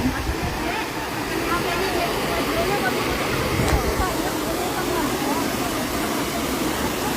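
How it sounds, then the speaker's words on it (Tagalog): Steady, dense rush of waterfall water roaring without pause, broadband and fairly loud, with faint crowd murmur mixed underneath. "Malalim na, malakas pa ang impact ng tubig."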